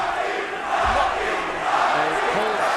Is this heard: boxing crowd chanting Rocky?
yes